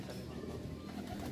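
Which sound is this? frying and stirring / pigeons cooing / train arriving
pigeons cooing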